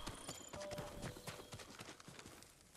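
Horse hooves clip-clop in a quick, steady gallop while riding in Ghost of Tsushima, distinct and close over a soft game ambience.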